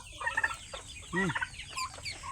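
A black-necked backyard hen, close by, gives a short run of clucks and croaky calls, several bursts over a couple of seconds.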